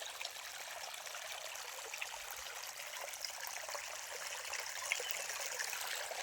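Steady, gentle rush of flowing stream water at a natural waterhole where wildlife drinks, continuous and fairly faint, with no voices.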